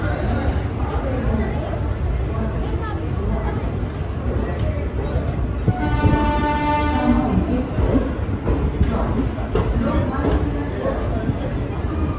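The Pune-Darbhanga Gyan Ganga Express runs with a loud, constant rumble and rail clatter, and a horn sounds in the middle. A person talks over the noise throughout.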